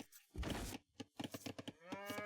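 A few cows moo in a strategy video game: a low moo comes first, then several short lowing calls follow in quick succession, close and distinct.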